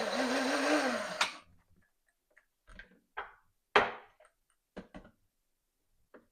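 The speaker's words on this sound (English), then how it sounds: "Okay, pop it in my blender." A kitchen blender whirs loudly with shepherd's pie ingredients for about a second, then cuts out abruptly, followed by a few scattered knocks and taps in near silence.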